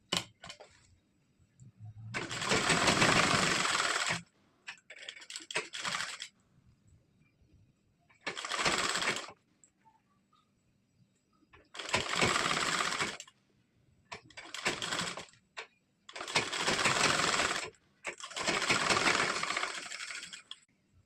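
Sewing machine stitching the side seam of a four-tuck blouse, running in several loud bursts of steady rapid whirring separated by short pauses.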